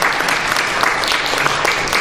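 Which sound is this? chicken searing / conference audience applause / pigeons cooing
conference audience applause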